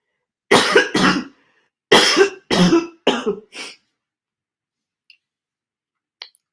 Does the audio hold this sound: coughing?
yes